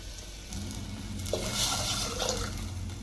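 Water pours into a clay cooking pot of sizzling vegetable tempering, a steady close splashing fill with faint dripping over a low background hum, no talking.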